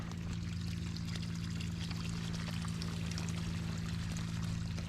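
Water pouring steadily from a hose onto dry, cracked ground beside a gravel road, a continuous close rushing with a low steady hum beneath, no voices.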